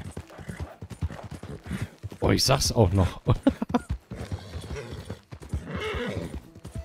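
Horse hooves gallop at a fast clip-clop rhythm in Red Dead Redemption 2, with a whinny partway through and a person talking over the hoofbeats.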